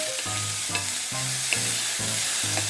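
Onions and tomatoes sauté in a pan for a rajma gravy, a soft steady sizzle under a rhythmic scraping stir that repeats roughly twice a second, close and alone.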